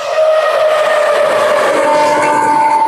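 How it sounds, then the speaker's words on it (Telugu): An express train rushing past at full speed, a loud sustained roar with a droning horn-like tone running throughout. "ఫుల్ స్పీడ్గా వస్తుంది ట్రైన్"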